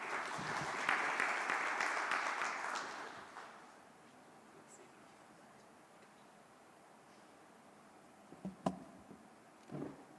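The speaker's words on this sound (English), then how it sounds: "Let's give him a round of applause." Audience applause at the launch of IFRS sustainability disclosure standards in Kenya, a dense round of clapping for about three seconds that then fades into quiet room tone, with a few sharp knocks near the end.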